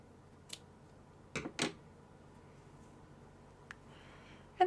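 Scissors snip short yarn tails on a crocheted bat plushie, giving a few quick, crisp cuts spaced apart in a quiet room, close and faint with no talking.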